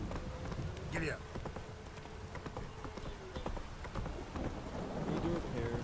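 Horse hooves clip-clopping at a run in The Witcher 3, a steady fast patter of hoofbeats mixed with game ambience and a faint background drone, no talk over it.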